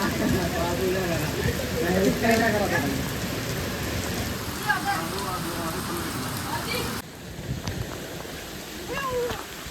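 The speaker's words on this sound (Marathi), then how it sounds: "पाऊस एवढा का आला आम्हाला पळतच घरी यावं लागलंय." Heavy rain pours down steadily around a home, a dense continuous wash with no letup, while people talk faintly in the background.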